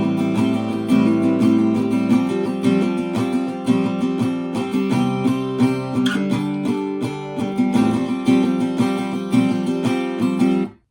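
Acoustic guitar strummed through the first part of the bridge of a song, old phone pub version, with a steady strumming pattern ringing full chords, played alone and close before stopping abruptly at the end.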